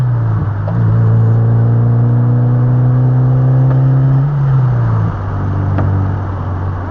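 A car driving with a new FRZR exhaust, its engine giving a loud, close, steady droning growl that holds a pitch, then briefly dips and settles lower as the driver shifts.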